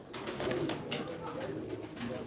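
Soft, repeated cooing and fluttering of pigeons nearby, with faint background murmur.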